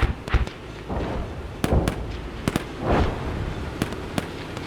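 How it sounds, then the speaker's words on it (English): HE rounds fired from a Marder 1A infantry fighting vehicle in the game Gunner HEAT PC, a string of sharp cracking shots and thuds at irregular intervals over a rumbling battlefield bed, loud and close. "I'm gonna use my HE rounds."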